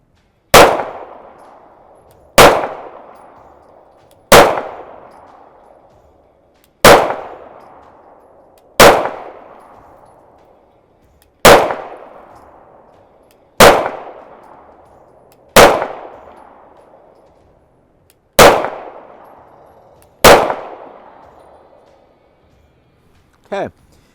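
Taurus G3C SR pistol fired at a steady pace, eleven sharp, loud shots spaced roughly two seconds apart, each with a short decaying ring, heard alone at close range.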